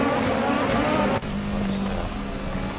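Racing cars from a video game run together in a pack, a dense, loud, continuous engine roar that holds steady with a brief dip partway through.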